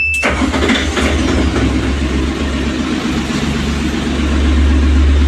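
An engine on an LPG tanker cranks and fires up during a routine engine check, a sharp start followed by a loud, deep, steady running rumble that swells slightly toward the end.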